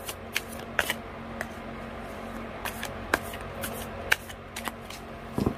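Tarot cards being shuffled by hand at close range during a card reading, giving scattered crisp riffles and sharp snapping clicks at an irregular pace, with no speech.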